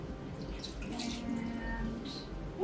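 Liquid runs and pours into a measuring cup beside a pot on the stove, a soft, steady trickling wash heard close and faint, with no talk.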